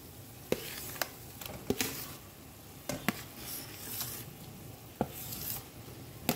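Turmeric powder is stirred into mashed raw mango and potato, a soft scraping mix under faint background sizzle, broken by a few sharp clinks of a spoon against the bowl.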